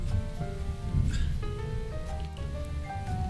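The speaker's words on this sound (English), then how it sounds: "Thunderstorm in the middle of December." Steady rain falls with distant thunder rumbling underneath during a December thunderstorm, a continuous dense wash of drops with no voices.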